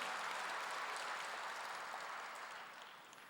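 A church congregation at a Korean Wednesday worship service applauds in a dense, even wash of clapping that holds steady, then slowly thins and fades toward the end.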